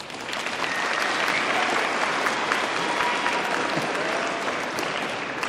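A high school audience at a Veterans Day program applauds in a gym or auditorium, a dense, sustained roar of many clapping hands that holds steady, loud and full, throughout.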